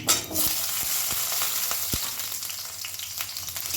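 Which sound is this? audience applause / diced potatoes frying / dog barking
diced potatoes frying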